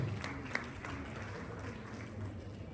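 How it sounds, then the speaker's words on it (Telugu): Applause from an audience at a family day celebration drama, a steady, soft wash of clapping that runs the whole time at moderate distance, with a low hum underneath. "మాకు క్లాప్స్ చేయండి"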